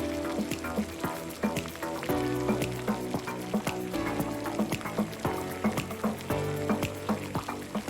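Ginger paste fries in hot oil, a close crackling sizzle with scattered pops and soft stirring scrapes running steadily throughout, no voices.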